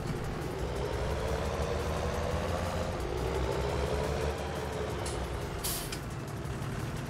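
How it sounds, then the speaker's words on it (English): A modded tractor engine in Farming Simulator 19 runs steadily and loudly throughout, a dense, heavy diesel drone. A brief hiss like a gear shift or air release breaks in near the end, and no one speaks. "this tractor right here got thrown up as an update on the mod hub yesterday with gear shifting sounds"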